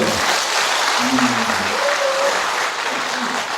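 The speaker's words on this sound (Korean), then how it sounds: "박수 한번 주시죠" Talk-show audience applauding steadily and fairly loud for over three seconds, with a few voices calling out over the dense clapping.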